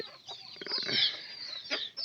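A single chicken clucks in a few separate, close calls over a quiet background, with no talk.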